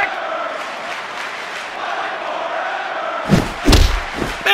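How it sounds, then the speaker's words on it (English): A roaring video game wrestling arena crowd hums underneath, then heavy thuds and slams hit near the end as the crowd surges. "Man, do you hear that crowd?"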